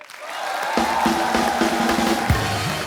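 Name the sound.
studio audience applause and cheering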